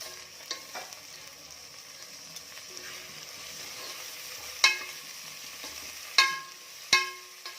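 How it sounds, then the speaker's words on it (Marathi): Onion and tomato frying in a pan for chicken masala, a steady soft sizzle throughout with a few sharp clinks of a stirring spoon against the pan near the end, no talking. "आता टोमॅटो देखील छान परतू देत."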